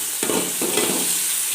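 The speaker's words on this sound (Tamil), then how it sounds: "பிரண்டை நல்லா வறந்துட்டு இருக்குதுங்க, பாருங்கள்" Pirandai (veldt grape) fries in a pan for chutney, a loud, dense sizzle with a few quick stirring scrapes pulsing through it.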